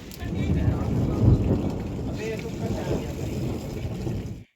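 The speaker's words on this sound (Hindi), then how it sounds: "तो यहाँ पे ओले भी गिर रहे हैं" Hail and rain fall steadily onto surfaces in a mountain village in Uttarakhand, a dense, close patter under a brief passing shower, with a person speaking over it.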